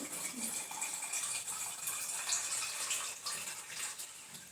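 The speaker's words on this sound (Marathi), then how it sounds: "आता ह्याच्यात जे आपण मसाले मगाशी करून घेतलेले हेच पाणी मी याच्यामध्ये ॲड करणार आहे" Spiced water pours into a pan of Kolhapuri kurma, a steady, close splashing and rushing stream that runs evenly for several seconds without speech.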